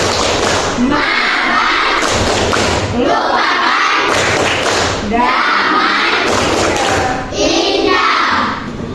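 A classroom of children performs the 'tepuk maaf' clapping chant, loud rhythmic group claps and thumps in repeated bursts with shouted chanting voices, filling the room throughout.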